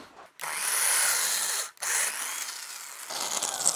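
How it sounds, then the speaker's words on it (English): A power drill whirs loudly for about a second and a half drilling a small hole in wood, stops briefly, then runs again at a lower, steadier pitch, close by. "We could get our drill back, drill a little hole."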